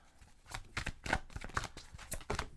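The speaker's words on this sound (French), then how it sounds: "On va aller chercher une dernière carte." A tarot card drawn from a deck during a reading, a run of soft papery slides, taps and flicks that come in irregular bursts, close and quiet.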